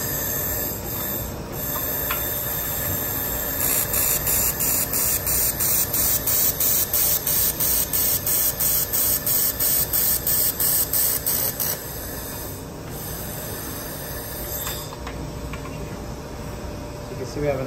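LightWELD laser welder pulsing during a TIG-style weld, a steady high hiss with a fast regular pulsing rhythm through the middle stretch, loud and close.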